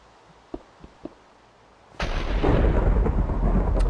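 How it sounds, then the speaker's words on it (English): Loud thunder breaks in suddenly and keeps rolling, a deep roar with crackle on top. A few faint clicks come before it. "that thunder is loud"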